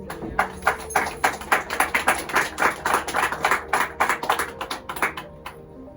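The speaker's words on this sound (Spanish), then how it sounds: "Dele palmas al Señor." A church congregation claps in praise during a Spanish-language worship service, giving steady, fairly quick rhythmic hand claps that stay at a moderate level throughout with no talk over them.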